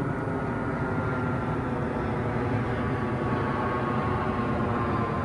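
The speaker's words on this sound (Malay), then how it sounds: "Sekejap bunyi kapal terbang korang." A steady, distant roar of an airplane passing overhead, a broad continuous rumble that stays fairly even and moderately faint throughout.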